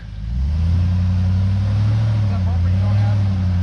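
An off-road vehicle's engine holds a steady, loud low rumble while crawling over a rock on a Big Bear mountain trail, with people talking and shouting over it.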